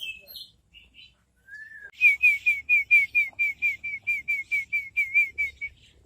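A pair of tame starlings whistles: a few scattered notes, then a steady run of about fourteen bright, evenly spaced whistled notes, close and clear.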